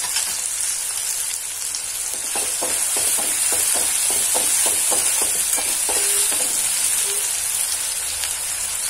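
Tomatoes frying in a pan for pav bhaji make a constant, fairly loud sizzle with a run of regular light taps or spatters partway through, without speech.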